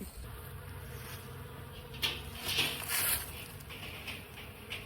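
Honey bees flying around a farm beehive entrance in March, some carrying pollen, making a continuous close buzzing hum, with a few louder passes as individual bees fly near.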